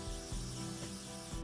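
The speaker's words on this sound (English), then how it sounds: "Now that it has hairspray, it's really gonna start looking real smooth." Hairspray hisses from a can onto hair in a steady, close, continuous spray, with a few brief rubbing pulses underneath.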